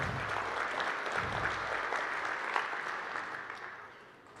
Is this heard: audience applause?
yes